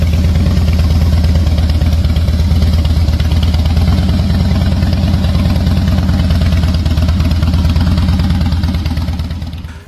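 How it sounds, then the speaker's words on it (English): A Harley-Davidson Softail Deluxe motorcycle engine runs steadily close up, a loud low rumbling idle with a lumpy, uneven beat and mechanical clatter, continuous throughout without voices. "Harley sound."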